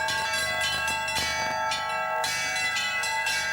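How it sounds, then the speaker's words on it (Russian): Church bells over Staraya Ladoga peal loudly and continuously, several bells struck in an overlapping rhythm with long ringing tones and no voices. "как встарь, колокольные звоны."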